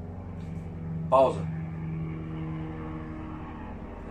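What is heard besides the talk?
helicopter passing overhead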